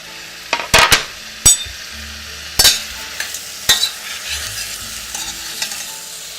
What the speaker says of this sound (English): Now add the apples and let those cook down till softened.